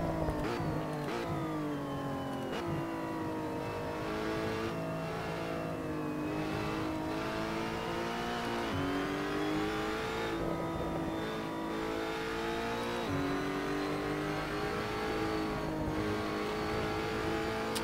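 A racing video game car's engine drones steadily as it rolls back to the pits, with repeated rises and dips in pitch as it shifts through gears, loud and continuous for the whole stretch with no talk.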